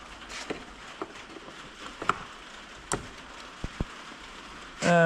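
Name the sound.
rain falling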